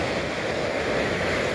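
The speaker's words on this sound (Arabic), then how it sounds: "لأنها أمواج منظمة كما تلاحظون" Ocean waves wash in as a steady, unbroken roar of surf mixed with wind, with no voices over it.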